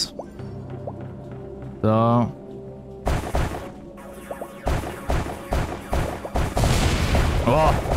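A new bomb goes off in the video game Wall World, a string of loud booming blasts and crashes that follow a short spoken word and a rising electronic tone.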